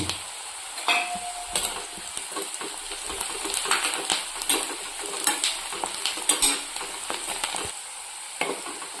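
Spices being stirred and fried in a pan for a Telugu capsicum fry with dal powder, turmeric and salt; a steady close sizzle runs throughout, with scraping stir strokes and light utensil clinks, and no talking.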